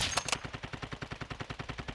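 Rapid automatic gunfire in Call of Duty Warzone 2, a steady burst of about twenty evenly spaced shots at close range, fairly loud and rhythmic, with no talking.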